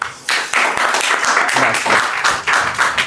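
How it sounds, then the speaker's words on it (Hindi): Classroom students clapping together in a Class 10 geography lesson, a dense burst of applause with a short pause, then resuming loudly. "तालियां बजाने के लिए कहा था"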